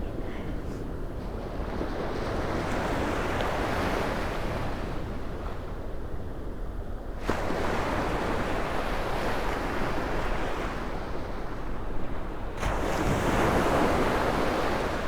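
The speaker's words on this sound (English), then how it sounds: "I think the tide's coming in because the water just keeps getting closer and closer to me" Ocean waves roll in steadily as the tide rises, a loud, continuous wash of surf with wind buffeting the microphone, the surges swelling and breaking close by.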